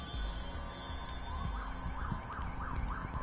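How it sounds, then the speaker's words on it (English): Emergency vehicle sirens wail in the distance in downtown Albany, a faint rising-and-falling tone that repeats several times beneath a steady background hum. "Here's some sirens in the background, folks, in downtown crime-free Albany."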